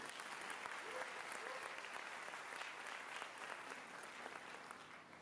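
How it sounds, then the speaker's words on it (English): A faculty audience at a Teaneck School District teachers' gathering applauds John Dean, steady, fairly faint and distant clapping running the whole time without a break. "We give John a round of applause"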